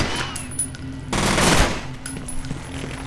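Gunfire in the shooter game F.E.A.R., a dense burst of automatic shots lasting about a second between quieter stretches of game ambience, loud and close.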